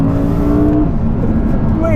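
A 2019 Audi R8 supercar in dynamic drive mode, revving hard after dropping a couple of gears: a loud, steady engine drone from inside the cabin, its tone shifting partway through.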